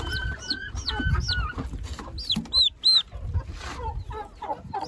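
Turkey chicks, one almost four weeks old, make close, repeated high chirps and peeps in quick, uneven runs, with a few sharper upward calls standing out above a soft background murmur.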